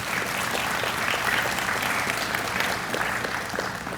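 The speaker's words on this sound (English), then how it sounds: "Another round of applause for Dr. Gaddis." Steady, dense applause from an audience at an outdoor Memorial Day ceremony fills the whole stretch, even in loudness without speech on top.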